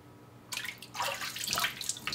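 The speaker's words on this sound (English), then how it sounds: "Just place our bag with our meat inside a sink filled with water." A bag of steak being pushed into a sink filled with water, silent at first, then sloshing and splashing close by in irregular surges for about two seconds.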